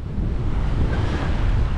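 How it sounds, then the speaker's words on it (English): Steady wind roars across the microphone over choppy waves just offshore of Ocean City on a breezy day under sail, a continuous loud rush with no voices. "so the waves aren't huge, but it's, you know, decent chop here"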